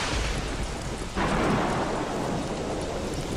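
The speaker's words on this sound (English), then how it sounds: "And it's hailing again." Hail falling in Don't Starve Shipwrecked near a volcano, a dense rushing patter with low rumbling that swells into a heavier, louder downpour partway through, no speech.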